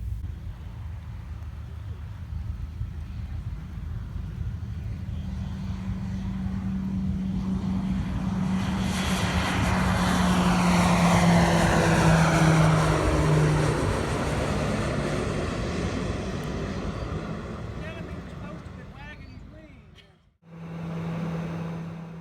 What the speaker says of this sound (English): Here's my takeoff out of Alexander City in Alabama